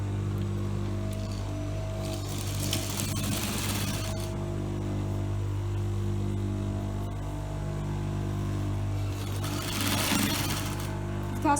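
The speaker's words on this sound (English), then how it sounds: "I'll sew it." A sewing machine stitches a trouser hem, a steady mechanical hum and whir running through, with brief louder rattling bursts near the start and end.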